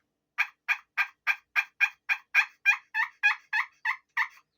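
A Holler Back electronic turkey game call plays a steady series of about fourteen clucking yelps at an even rhythm, clear and alone with no other sound.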